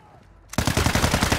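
Rapid automatic gunfire bursts out loud in a tactical shooter game after a short quiet lead-in, with dense repeated shots continuing to the end.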